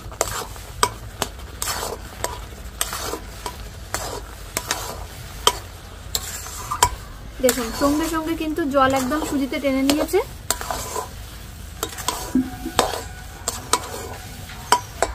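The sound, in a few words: stirring semolina in a pan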